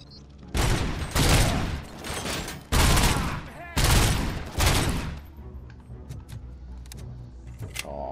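Loud bursts of gunfire from the video game RoboCop: Rogue City come in four or five sustained volleys with short gaps, followed by quieter scattered impacts and clicks.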